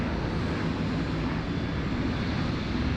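An Air Canada airliner taxiing down a taxiway toward a runway departure at Sydney Airport, a steady, broad roar of jet engines with wind-like rush, constant and unbroken throughout with no talking.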